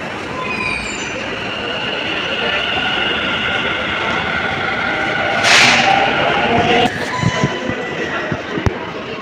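A Delhi Metro Blue Line train near Botanical Garden station in Noida rumbles steadily with a broad, constant roar and a high whine, a brief hissing burst midway, and faint clunks toward the end.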